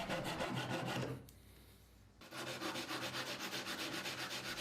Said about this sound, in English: when you're shaping timber by hand with sandpaper, in this case 120 grit, where possible, always use a block